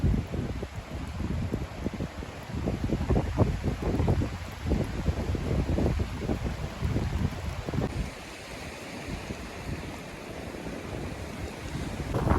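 Strong wind buffets the microphone on a hill walk in the Lake District, a loud, continuous rumbling roar with gusty swells that eases slightly near the end; no one speaks.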